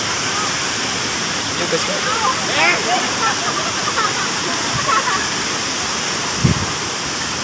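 Waterfall at Curug Muara Jaya makes a steady, loud roaring rush of falling water that fills the whole clip, with people talking over it.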